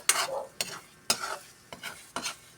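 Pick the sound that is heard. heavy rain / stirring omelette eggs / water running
stirring omelette eggs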